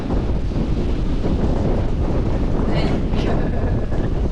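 Strong wind buffets the microphone continuously, a loud, steady roar with gusty rumble throughout, as if a storm is coming, in Angeles City, Pampanga.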